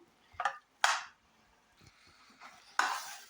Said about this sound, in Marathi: तर हे बघा सारण अगदी गूळ वितळेपर्यंत छान घट्ट होईपर्यंत परतवून घ्यायचं आहे